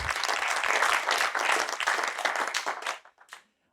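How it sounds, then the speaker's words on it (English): An audience at an energy-transition innovation day claps together in a dense burst of applause that holds steady for almost three seconds, then thins to a few scattered claps and stops. "I'd like to invite you maybe to just give them a clap for organizing it"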